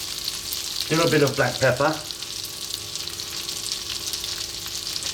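Onions with garlic ginger paste frying gently on low heat in a pan, a steady close sizzle throughout, with a person speaking briefly over it near the start.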